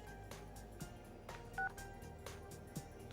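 An old flip-style cell phone in a video game rings with repeated electronic tone bursts in a steady pattern, clear and close, with no talking.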